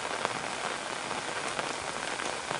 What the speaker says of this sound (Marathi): निश्चित राज्यातल्या इतर सारखाच पाऊस हा महाबळेश्वर आणि कोयना परिसरात पाहायला मिळतोय।